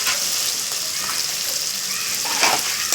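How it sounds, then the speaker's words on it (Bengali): Ground masala of turmeric, cumin, coriander, chili powder and salt sizzling in a hot pan: a steady, bright frying hiss with small crackles and stirring scrapes. "এরপরও আমি মশলাটা ভালো করে কষিয়ে নেব"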